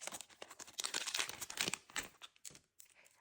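A plastic surprise packet of bracelet charms crinkles and tears as it is opened close up, with quick irregular crackles and a few pauses between handlings.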